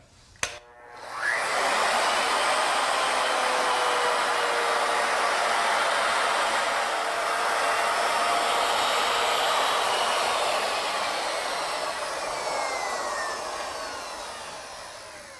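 Wood router cutting a bead into a wooden workpiece on a jig, a steady loud whining roar that starts abruptly after a brief click and runs continuously, slowly fading near the end.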